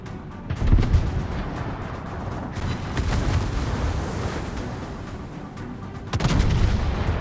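Naval gunfire from warships in World of Warships, heavy booming volleys at the start, middle and end over a continuous rumbling battle ambience, loud and near.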